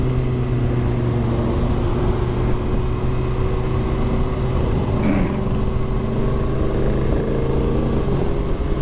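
A 2020 Kawasaki Ninja 636 motorcycle riding along, its engine droning as a steady, loud hum with even tonal bands and wind rush, no voices over it.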